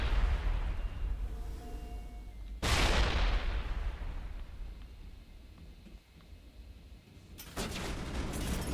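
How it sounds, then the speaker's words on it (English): Gunfire in the video game Mass Effect as a squadmate shoots into a wall: a loud burst of heavy blasts around the third second that fades into a rumbling tail, then another sharp burst near the end over a low ambient hum. "There's literally an enemy to the right of Tally right here, and she's shooting the wall."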